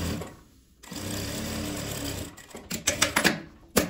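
A sewing machine runs a short burst of topstitching along fabric seams, a close, steady mechanical chatter that ends in a few sharp clicks and knocks.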